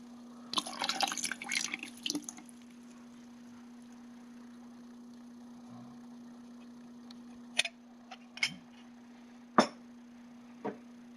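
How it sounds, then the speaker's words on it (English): Yeast starter pours into Concord grape must, splashing and trickling for a couple of seconds, followed by a few scattered drips and small clinks over a steady hum. "And then pour it into my must."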